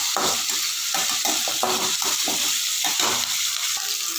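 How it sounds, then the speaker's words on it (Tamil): Curry leaves and tamarind frying and being stirred in a pan, with a steady sizzle under repeated scraping strokes of the spoon, close and fairly loud for the whole stretch. "இப்போது நல்லா நம்ம ஃப்ரை ஆகிற வரைக்கும் கலந்துக்கலாம்."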